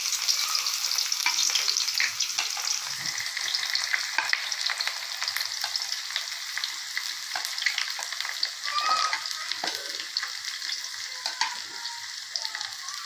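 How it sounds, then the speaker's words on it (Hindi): Onion, green chili and tomato frying in oil for a masala, a continuous crackling sizzle with occasional stirring scrapes, close and steady with no talk. "मैंने इसमें मैं डालूंगा प्याज, सब्ज़ मिर्च और टमाटर।"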